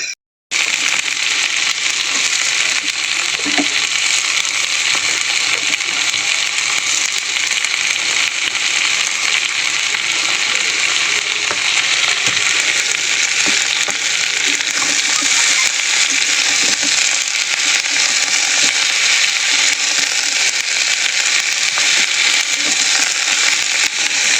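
Broccoli, carrots and beans frying in a pan, a steady dense sizzle and crackle that runs loud and unbroken throughout with scattered faint clinks.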